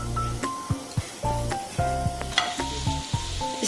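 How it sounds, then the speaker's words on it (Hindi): Chena frying in oil on a low flame for sita bhog, a steady close sizzle broken by repeated scraping and clinking of a spatula stirring in the pan, no voices. "लो फ्लेम पे इसे फ्राई कर लेंगे हम।"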